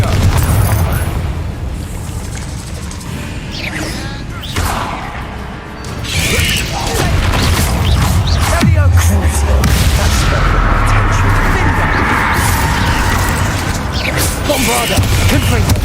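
The Bombarda blasting spell in Hogwarts Legacy detonates with heavy booms and crashing debris across a long, loud stretch of combat, several blasts rolling into rumbling aftermath, with a voice speaking at moments.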